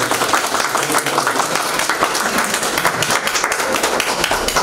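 Steady applause from a crowd at a library event, dense overlapping clapping that holds at a constant level for the whole stretch.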